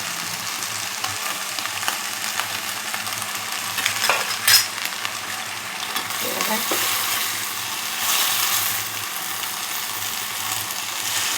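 Fenugreek leaves with moong dal are stirred in a hot pan, giving a steady close sizzle and frying hiss with light scraping strokes throughout and no talk.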